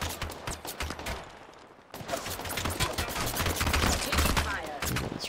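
Rapid automatic gunfire in an Apex Legends battle royale match, a dense stream of loud close shots that grows heavier after a short lull, with a faint voice underneath.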